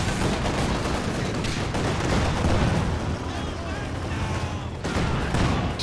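Tank guns and artillery fire in a Company of Heroes 2 battle, a dense continuous wash of booms and gunfire rumbling loudly throughout, with speech mixed in.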